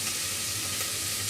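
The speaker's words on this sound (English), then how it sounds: "sizzling quite nicely." Softened onions just starting to turn yellow sizzle steadily in a hot pan, a continuous close, even crackling hiss with no pause over the short stretch.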